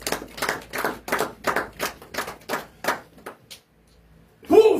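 Church congregation clapping in praise during a sermon, about ten sharp, evenly spaced claps in a steady rhythm that fade to a pause before a louder burst of sound at the very end.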